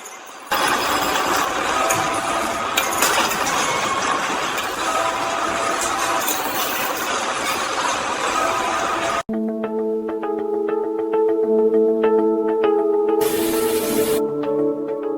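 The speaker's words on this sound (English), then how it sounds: "The capping machine seals bottles." A bottle capping machine in a Coca-Cola factory runs with a loud, hissing, spraying mechanical wash for several seconds, then cuts to a quieter steady whirring with tonal machine hum and a brief burst of hiss near the end, no speech.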